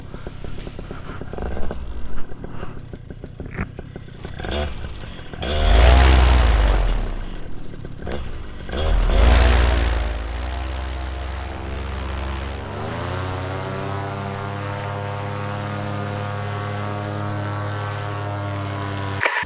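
A Moster 185 paramotor engine on its second break-in heat cycle drones steadily at an airfield, with two louder throttle surges early on before it settles into a constant idle hum.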